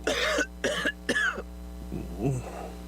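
Three harsh, wet coughs in quick succession, close and loud, followed by a softer throaty groan or sniffle.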